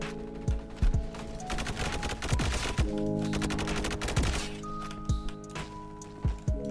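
Honey Badger rifle fire in a shooter game, with repeated loud bursts of rapid shots and punchy low thumps over a steady droning game background, close and continuous for most of the stretch.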